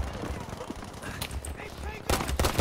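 Machine gun fire in Battlefield 5, rapid bursts of shots crackling amid battle noise and impacts, loud and close, with a voice speaking over it.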